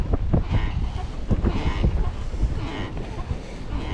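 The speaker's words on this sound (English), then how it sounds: "Definitely got wind today." Steady wind buffets the microphone on a lake during kayak bass fishing from a Hobie Pro Angler kayak, a continuous low rumble with gusty swells throughout, with no talking.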